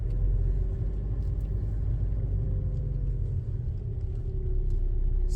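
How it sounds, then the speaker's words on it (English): Car pulling away with a learner driver at the wheel, giving a steady, close, low engine rumble with no voices. "Handbrake down, find your bite point, start to move off."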